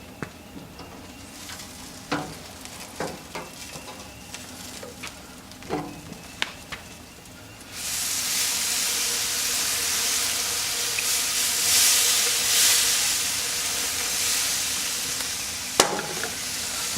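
A brisket in a pecan and hickory wood smoker is spritzed, and a strong, steady hissing spray rises suddenly partway through. Before that come scattered light clicks and handling sounds, and a sharp knock lands near the end.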